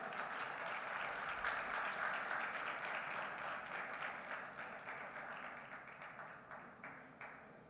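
Audience applause fills a hall at a maritime conference, steady broadband clapping that holds for several seconds and then gradually tapers off, with no voices over it.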